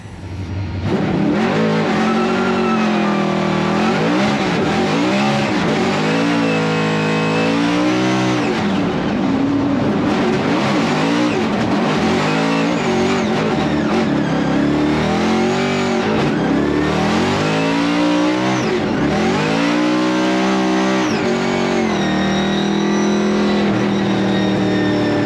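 An RTR Ford Mustang Formula Drift car running a drift lap, its engine loud and close, revving hard up and down in sweeping bursts with tyre squeal mixed in, continuous for the whole run.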